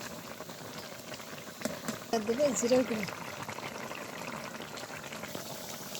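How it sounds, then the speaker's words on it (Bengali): Shing fish curry with cauliflower and bean flowers bubbling in a pot, a steady soft burbling and simmer throughout, with someone talking over it and a brief clink of added spices midway. "বলক উঠছে।"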